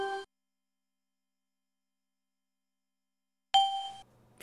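Windows for Workgroups 3.11 system sounds playing in the 86Box emulator: a short tonal ding at the start, then silence, then a brighter ding about three and a half seconds later, each clean and alone.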